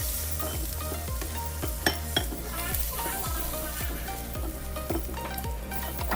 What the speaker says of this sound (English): We're probably going to saute these around for about 5 minutes